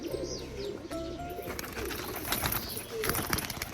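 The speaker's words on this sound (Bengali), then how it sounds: "এই যে কালো সাদা পায়রাটা কিন্তু এখন এখানে এসছে" A black and white pigeon coos softly in short repeated phrases, close by, with other birds chirping and faint rustling around it.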